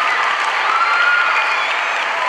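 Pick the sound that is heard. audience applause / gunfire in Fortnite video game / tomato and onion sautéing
audience applause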